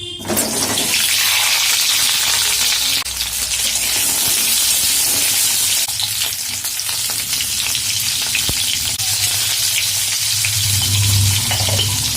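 Small fork-pricked potatoes frying in hot oil in a kadai, giving a loud, steady, dense sizzle that runs unbroken throughout with no talking.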